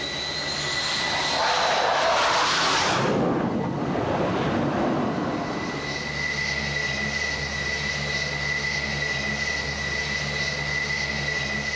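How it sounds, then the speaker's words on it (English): An F-14 Tomcat jet approaching an aircraft carrier rushes loudly past in a swelling whoosh, then settles into a steady, high-pitched engine whine and hum that carries on to the end. "Another plane must be guided to the ship."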